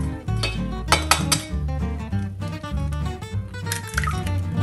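Eggs going into pancake batter in a bowl, with clinks and knocks of a utensil against the dish and soft wet stirring throughout, close and continuous, with no talking.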